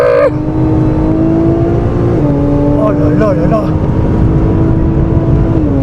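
A Toyota GR car engine on a race track in Japan holds a steady high drone that shifts pitch as it revs and changes gear, with excited voices shouting over it throughout.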